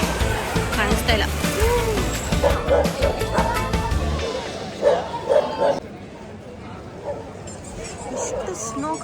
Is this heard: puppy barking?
yes